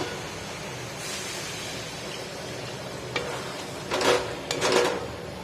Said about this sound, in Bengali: এইবারে দেবো এর মধ্যে জল, তোমরা গরম জল দিতে পারো